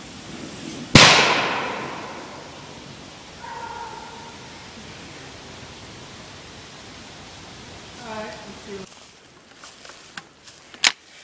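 Firework set off against a TV bursts with one sharp, loud blast followed by a long hissing decay, then faint voices and a few small clicks and knocks.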